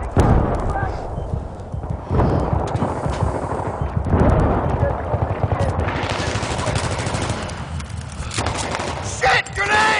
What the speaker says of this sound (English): Shit, grenade! Ah! Goddamn grenades.